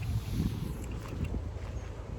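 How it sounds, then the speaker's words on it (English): Strong wind buffets the microphone in a continuous rough roar and rumble, with gusts rising and falling throughout. "It's super windy."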